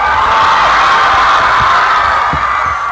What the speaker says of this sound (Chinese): 再来一波欢呼声